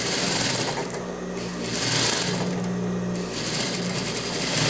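A sewing machine runs steadily, stitching a seam close to the edge while assembling a pair of women's basic trousers, its motor whirring at close range in continuous bursts with no talking.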